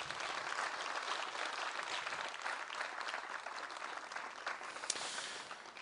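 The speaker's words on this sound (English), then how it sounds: "I was expecting a big round of applause" A full round of applause from an audience at a school tree-planting launch at Accra High School, dense and steady clapping heard at a slight distance, continuing without talk.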